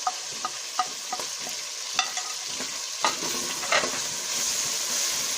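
Green onion sabzi with salt, garam masala, turmeric and chili frying in a pan, a soft continuous sizzle broken by a series of sharp spatula taps and scrapes at an irregular rhythm, close and fairly quiet.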